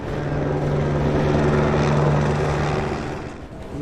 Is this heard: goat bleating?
no